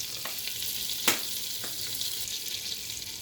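Butter and oil heating in a cooking pan give a steady, fairly quiet hiss of sizzling, with one sharp brief crackle near the start and a couple of softer pops; no one speaks.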